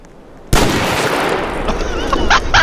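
Gunfire in a storm chasing video game: after a quiet moment, a sudden loud blast turns into a sustained roar of noise, with brief chirping sounds near the end.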